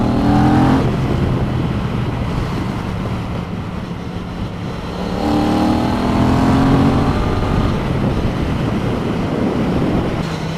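A Yamaha MT-07 motorcycle engine revs up and settles in two broad swells, a loud, steady, close drone.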